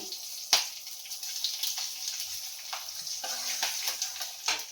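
Nigella seeds and green chillies frying in hot oil in a pan, a soft steady sizzle with scattered crackles and pops, faint and close, no talking.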